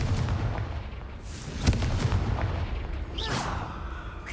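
A Confringo fire spell blast in Hogwarts Legacy, heard as a sharp crack followed a moment later by a rushing fiery burst over a steady background rumble, moderately loud.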